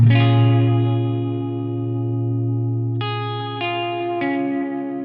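Electric guitar through a Keeley Parallax Spatial Generator pedal on light chorus: a sustained chord ringing out, then three fresh strums, each slightly wavering and lush.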